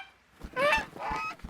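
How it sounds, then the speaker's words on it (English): Two honks from a cartoon goose in an adult animated show, sharp nasal calls close up, each lasting about half a second with a short gap between them and no talking. "Stupid goose."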